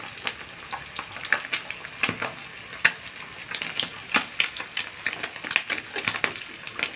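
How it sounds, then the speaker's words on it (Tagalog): Milkfish (bangus) frying in hot oil that spatters, with a busy crackling sizzle full of sharp pops and bursts that continue close up for several seconds without any voice. "Nananalsik talaga guys ng mantika."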